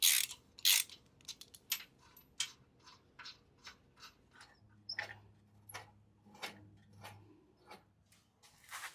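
A ratchet wrench loosens the bolts holding a Jeep's front bumper, giving a close series of quick, sharp clicks in short bursts, irregular in rhythm and at moderate volume.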